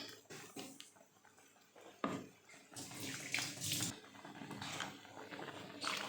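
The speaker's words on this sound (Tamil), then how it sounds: "கொஞ்சம் தண்ணி ஊற்றிக்கலாம்" Water pours and splashes into a pot of ground masala for Karaikudi crab curry in uneven bursts, close and fairly quiet, with light clinks of cookware.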